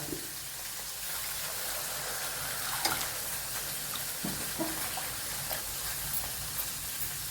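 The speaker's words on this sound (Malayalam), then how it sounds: "അപ്പോഴത്തേക്കും വെള്ളം ഒഴിക്കുക." Water is poured into a pan of vatha kuzhambu masala fried until the oil separates, giving a continuous hissing sizzle with bubbling and a few light clinks, steady and close.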